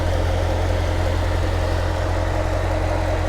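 A 2016 Corvette Stingray's 6.2-litre aluminium direct-injected LT1 V8 runs at a steady idle, a loud, close, continuous low rumble with no talk over it.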